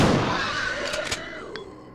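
Two or three sharp gunshots ring out in Resident Evil 2 against a creature, close and loud, echoing briefly over a low ambient game background.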